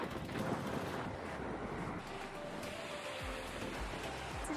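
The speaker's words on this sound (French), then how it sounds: "J'ai le vent de face pour commencer" Strong headwind buffeting a microphone while walking outdoors, a continuous loud rumbling roar with gusty swells and low thumps throughout, no voices.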